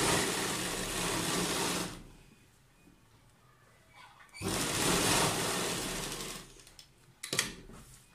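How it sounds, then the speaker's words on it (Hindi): Sewing machine stitching around the neckline of a kurta, running in two loud continuous bursts with a quiet pause between them and a brief mechanical clack near the end. "इस तरह हमने सेंटर का पहले एक सिलाई लगा लेनी है।"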